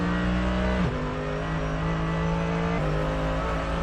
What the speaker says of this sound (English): the Audi hugs the inside line and Engel has nowhere to go